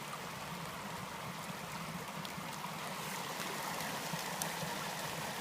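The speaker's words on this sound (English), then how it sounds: "That stream cannot handle all this water." Runoff water rushes steadily down a trail toward a culvert on Starr Trail after heavy rain, a continuous, broad, close flowing roar with no voices.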